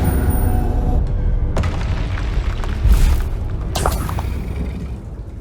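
A Bombarda spell detonates in Hogwarts Legacy, a deep, loud booming blast with rumbling low end, followed by further crackling bursts and a second swell of impact noise.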